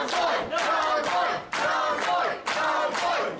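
A wrestling event crowd at an independent pro-wrestling show roars and cheers in loud surging waves, swelling three times with brief dips between bursts.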